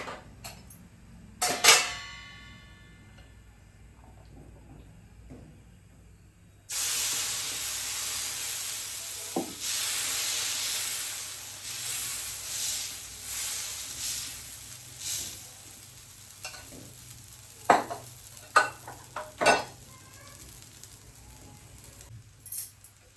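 Oil on a hot pan for poha dosa sets off a loud, steady sizzle of hiss and crackle that starts abruptly and lasts several seconds. Scattered clinks of utensils come before and after it.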